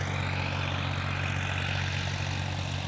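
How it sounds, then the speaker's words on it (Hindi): Two tractors, a Massey Ferguson 241 and a Farmtrac 45, run in an 84-bigha farm field, giving a steady, loud low-pitched engine drone with a constant rumble and no breaks. "दो ट्रैक्टर चल रहे हैं"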